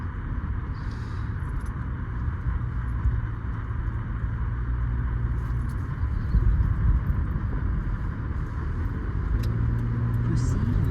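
Car driving down a bumpy road, a constant low rumble of road and engine noise with rattling, heard from inside the vehicle as people talk over it.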